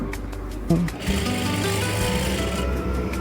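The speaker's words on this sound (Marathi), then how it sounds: "गळा जे आहे पलटी केलेला त्यावर आपली शिलाई मारायची" A sewing machine stitches along the turned-over neckline of a blouse, a close, steady mechanical whirring that runs for a few seconds, with a voice talking over it at the start.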